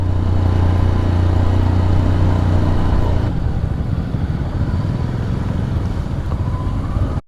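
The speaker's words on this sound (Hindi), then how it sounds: "एक्सीलेटर मैंने इसलिए छोड़ा क्योंकि इंजन ब्रेकिंग पे गाड़ी उतर रही है।" A motorcycle rolls downhill on engine braking with the throttle closed on a mountain road near Sela Pass, its loud, steady low engine drone settling into a rougher rumble with wind noise.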